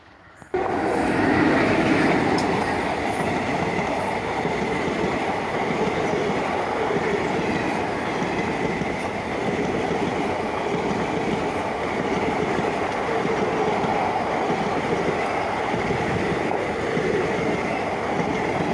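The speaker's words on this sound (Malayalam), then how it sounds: "എറണാകുളം സൈഡിൽ നിന്ന് ആലപ്പുഴ ഭാഗത്തേക്ക് ഒരു ട്രെയിൻ കടന്നു വരികയാണ് ഓപ്പോസിറ്റ് സൈഡിലേക്ക്" A train on a single-line Indian railway track near Ernakulam and Alappuzha passes close by in a loud, steady rumble of wheels and carriages, holding at a constant level for nearly twenty seconds with no voices.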